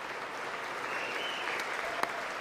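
Steady applause fills the chamber during a State of the Union address, an even, moderately distant wash of clapping that keeps going without a break and has no talk over it.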